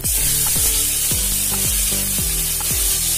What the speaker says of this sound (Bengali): এখন কাঁচা লঙ্কা সর্ষে দিয়ে ফোড়ন দিলাম